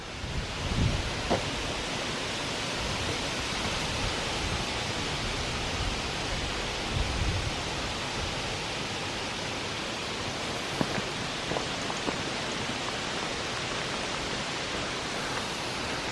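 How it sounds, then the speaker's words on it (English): Wind sweeps through a stand of Lombardy poplars on a late-August day, a steady broadband rustle of leaves that stays even and close throughout, with no speech. "Lombardy poplars, not native here, but when the wind goes through, it's a lovely sound."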